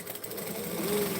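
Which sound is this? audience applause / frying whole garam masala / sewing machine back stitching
sewing machine back stitching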